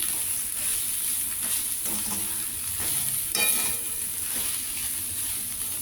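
Ponnaganti greens with turmeric and asafoetida fry in a pan, a steady close sizzle with scraping stir strokes and a brief louder burst near the middle, no voices.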